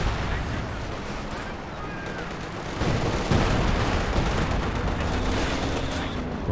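Machine-gun fire from an MG team in a Company of Heroes 2 2v2 match, sustained and fairly loud amid a dense wash of battlefield explosions and gunfire, with a heavier stretch of fire in the second half.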